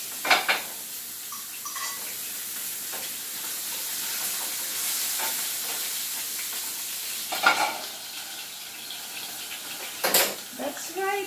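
Steak fries in a pan with a continuous low sizzle, punctuated by several sharp clatters of utensils scraping and stirring, and a voice talks intermittently over it.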